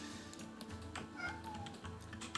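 A pet cat meowing close to the microphone in a couple of short calls over soft indoor background noise.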